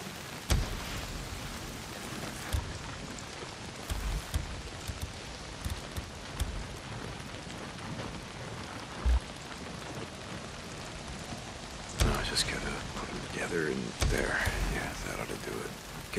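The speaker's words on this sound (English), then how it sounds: "Well, not if it's pissing down rain." Heavy rain pouring steadily in the Days Gone video game, a dense hiss of drops on surfaces running throughout, with occasional louder spatters and muffled game sounds at intervals.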